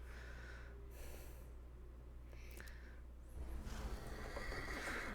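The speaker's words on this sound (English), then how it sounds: "I meant to take the horse out for a run, so get on." A horse in The Thaumaturge video game whinnies and snorts under a low steady ambient hum, followed by rougher, louder breathy horse noises toward the end.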